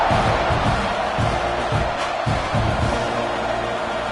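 Steady roar of a large stadium crowd, loud and continuous, with swells of cheering throughout.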